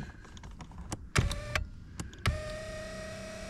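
Small electric motor in a Range Rover L405 seat whirring in short bursts, stopping and starting with clicks and thumps between runs, close and fairly quiet.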